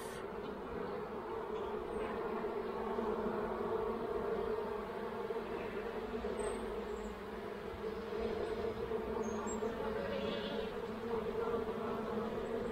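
Honeybees at an apiary hive on Bois de Nèfles drone in a steady, dense buzz close by, continuous throughout with no talking.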